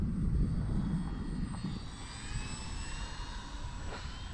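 An E-Flite Valiant electric RC airplane flies into the wind overhead, a faint, thin motor whine with shifting pitch over a blustery rumble of wind on the microphone, with no talking.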